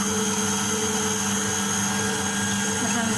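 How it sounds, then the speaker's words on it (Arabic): An electric blender whirs steadily, beating four eggs for a lemon cake batter, a continuous loud motor drone throughout with no pause. "انا درت البيض، درت 4 البيضات في الخلاط"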